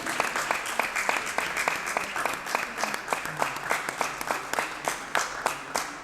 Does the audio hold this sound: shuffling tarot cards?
no